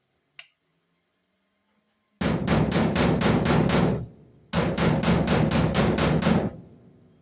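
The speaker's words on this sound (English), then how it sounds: "So this hammer's got a little bit of a roundness to it." A rounded hammer hammers a metal patch panel seam in two rapid bursts of evenly spaced, ringing strikes, seven or eight blows each, loud and close, after a single faint tap at the start; no talking.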